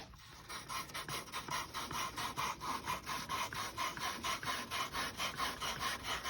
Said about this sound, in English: this compound is actually just grinding off just a little bit of the metal from the scope rings themselves